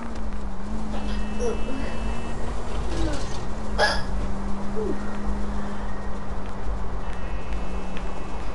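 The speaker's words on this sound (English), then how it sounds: "this got so exciting, I got the hiccups" A person hiccups over a steady background hum and game noise, with one short sharp burst standing out partway through during a car chase in L.A. Noire.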